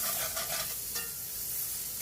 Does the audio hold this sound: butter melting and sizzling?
yes